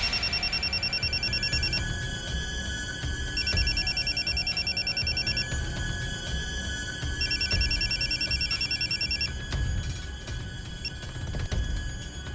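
A telephone rings in a repeating electronic double-trill pattern, three bursts spaced a couple of seconds apart, clear and fairly close over a steady low background hum, with no talking.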